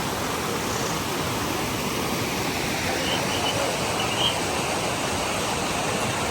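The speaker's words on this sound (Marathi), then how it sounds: "असं वरून पूर्ण पाणी येतं" Water pouring down from above at a roadside spot where horses stop to drink on the Amarnath Yatra route, a constant, even rushing wash with no pauses and no talk.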